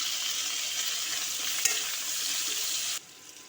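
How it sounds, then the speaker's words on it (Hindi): Ginger garlic paste fries in a pan with onion and green chillies, a close, steady hiss of sizzling with a brief stirring clatter, then the sizzle drops sharply quieter near the end. "अदरक लहसुन का पेस्ट भुन गया।"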